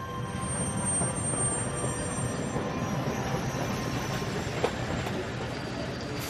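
A train runs steadily along rails on an inland Australian line toward Alice Springs, a continuous loud rumble with wheel noise and faint squeals and no voices.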